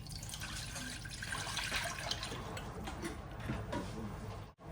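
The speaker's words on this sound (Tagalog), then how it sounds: "Nagsak lang tayo ito ng kawali. Maglagay tayo ng tubig." Tap water running steadily into a frying pan (kawali), a continuous splashing pour close by with no talk, cutting off briefly near the end.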